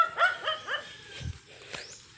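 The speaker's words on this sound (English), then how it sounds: "That's why the dog there is barking" A dog on a dry provincial farm gives a quick run of three yelping barks up close, then a lower grunt and one more yip, fairly loud with no talking over it.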